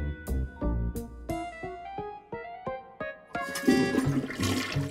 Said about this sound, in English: You really flushed them. Yes. Down the toilet.